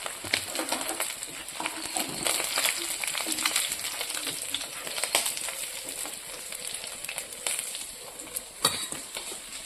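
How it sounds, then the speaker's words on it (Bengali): Fish frying in oil gives a soft, steady crackling sizzle with scattered pops and the odd scrape, fairly quiet and close, with no voices. "মাছ ভাজাটা হয়ে গেছে লাল লাল করে ভেজে নিয়েছি এবার আমি মাছটাকে নামিয়ে নেব"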